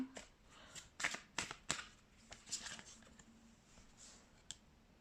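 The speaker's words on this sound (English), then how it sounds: "Let's shuffle some more." Tarot cards are shuffled by hand in a quiet room, giving a run of soft, uneven riffling slaps and flutters with short gaps between them.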